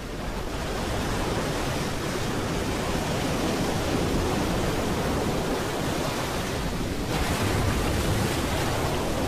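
Surf breaks continuously on the sheltered, ice-free coast of the Varanger fjord, a dense, loud, unbroken wash of waves with a slight surge near the end.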